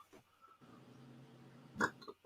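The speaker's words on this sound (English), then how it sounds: "Oh, now I'm burping up chocolate covered bacon and pickle." A single burp after eating chocolate-covered bacon and pickle, a short loud belch rising out of quiet room tone near the end, followed by a faint second gulp.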